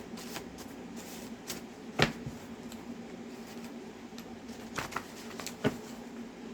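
Soft, papery riffling and light taps of cards being shuffled, close and quiet, with a few sharper slaps at irregular moments.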